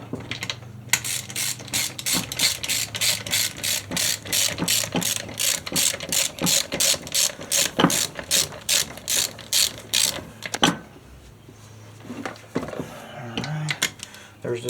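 A ratchet torque wrench tightens engine case bolts on a Yamaha Banshee build, giving long runs of rapid, crisp clicking close by, broken by short pauses and a quieter stretch near the end.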